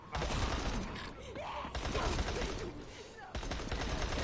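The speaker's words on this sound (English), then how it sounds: "This is one of the SMGs we've got earlier on in the game. Good fast fire rate on it." Rapid submachine gun fire in the video game Dying Light, dense overlapping bursts rattling loudly through the clip, broken by a short gap near the end before firing resumes.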